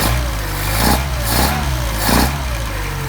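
A Mercedes 190SL engine with Solex carburetors idles steadily, a low rumbling drone with slight swells in speed, heard up close on its own.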